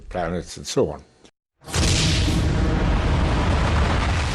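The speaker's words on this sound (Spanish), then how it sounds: "La gran explosión del Big Bang parecía explicar el nacimiento del universo" A massive Big Bang explosion effect bursts in after a brief voice and a moment of silence, then holds as a loud, sustained roaring rumble that fills the rest of the clip.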